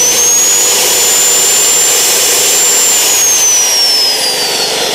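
A Bosch GCO2000 2000 W high-speed cut-off saw runs unloaded, powered by a DeWalt 3.5 kW inverter generator. It gives a loud, steady, close whine with a high tone that rises slightly and then falls, and no voices are heard.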